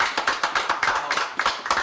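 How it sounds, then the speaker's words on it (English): A small group of people claps in a round of applause indoors, with close, sharp, uneven claps in quick bursts. "round of applause for JC."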